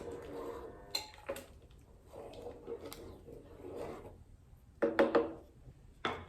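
A spoon knocks and scrapes against a pot of lentil soup in scattered clinks and taps, with quieter stirring scrapes between them, close by.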